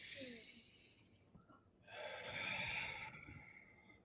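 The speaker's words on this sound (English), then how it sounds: "take a deep breath." A person takes a deep breath during a coaching session: a soft breath at first, then a long, airy inhalation swelling from about two seconds onward, close and fairly quiet.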